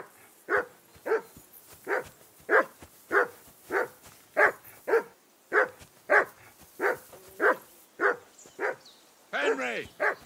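A dog barks repeatedly in the medieval role-playing game Kingdom Come: Deliverance II, a steady run of about fifteen evenly spaced, moderately loud barks, ending with a brief whine and a voice speaking.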